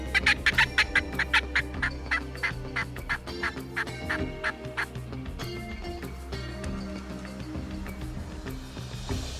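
Wild turkeys gobble repeatedly in a rapid, rhythmic series during a turkey hunt, fairly close and loud, with more calls overlapping and trailing off into a softer outdoor background near an open field.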